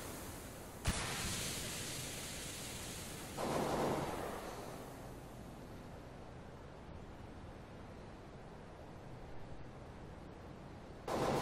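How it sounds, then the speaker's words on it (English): A Counter-Strike flashbang goes off with a sharp broadband burst, then a long steady high-pitched ringing hiss that fades slowly over several seconds, with a second bang near the end. "Throwing a flashbang."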